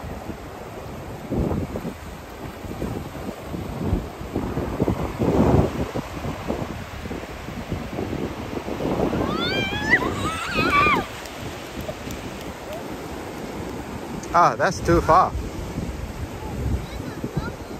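Sea waves wash onto the beach at Bognor Regis under gusting wind, a rough, broad rush that swells and fades in uneven surges, with children's voices and brief talk over it.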